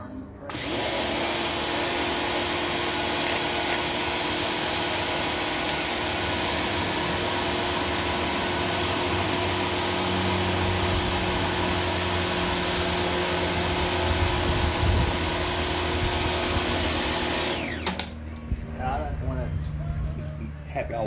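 A Ryobi spray gadget runs steadily for about seventeen seconds, a loud, continuous motorised hiss of water spraying that stops abruptly near the end, leaving quiet shuffling.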